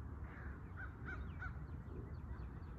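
Several crows caw a few times at a distance over a low outdoor rumble, the calls short and spaced out with no talking.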